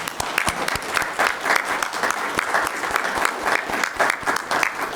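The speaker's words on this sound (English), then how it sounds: "Let's give Aaron a round of applause." Audience applause at a Weber County meeting for Aaron, a full, steady round of many people clapping with a few louder individual claps standing out.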